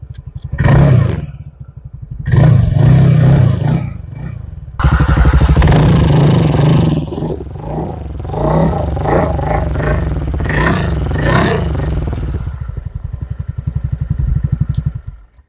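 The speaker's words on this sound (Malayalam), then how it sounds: "ഇതിൻ്റെ എക്സോസ്റ്റ് ഞാൻ ജസ്റ്റ് ഒന്ന് കേൾപ്പിച്ചു തരാവേ" A TVS NTORQ 150 scooter's exhaust burbles close up after a silent start, rising in several short throttle blips separated by brief quiet moments, then holding a steady idle with lighter revs toward the end.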